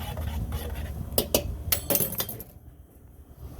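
A spoon stirs coffee grounds in a glass French press, making a run of sharp glassy clinks and rattles in the middle. The clinks are fairly close and fade into quiet hiss at the end.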